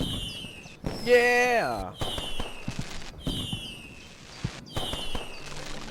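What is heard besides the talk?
fireworks going off in video game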